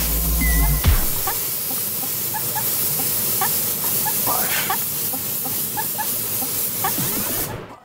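An airbrush loaded with black paint sprays a steady, close hiss that runs almost unbroken for several seconds, with faint clicks and taps scattered over it.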